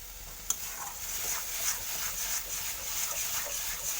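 Ginger, garlic and onion fry in a pan for a paneer dish, giving a steady close sizzle with a sharp scrape of stirring near the start.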